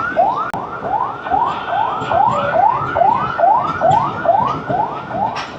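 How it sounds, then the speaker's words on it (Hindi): A wailing ambulance siren sweeps up repeatedly in a steady rhythm, loud and close, with traffic rumble underneath, heard from the Sir Syed Express train in Pakistan. "एम्बुलेंस अपना हॉर्न बजाते हुए जा रही थी"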